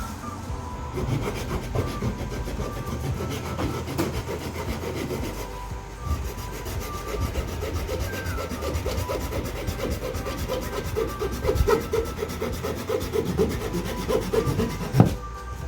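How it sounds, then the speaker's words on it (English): A small hand pull saw works steadily through wood, its dense rasping strokes running continuously and close for the whole stretch, ending with a sharp knock; no talking. "these little pull saws are wonderful little gadgets for some of this little stuff like this. They go pretty quick, especially through a lot of this wood"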